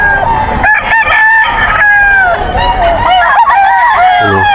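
Several gamefowl cluck and crow loudly at close range, their calls overlapping, including an SBR rooster, with honking, goose-like tones among them and a faint bit of talk underneath.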